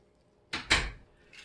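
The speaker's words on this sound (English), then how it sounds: "That was my husband slamming the door" A house door slams shut in two quick heavy thuds, the second louder, with a faint knock following, heard indoors at moderate distance from a quiet room.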